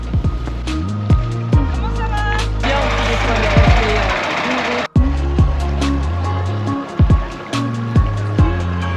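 Boat running on a mangrove river during a sunset tour, with a steady motor hum and water rushing against the hull, interrupted briefly by a louder splashing surge.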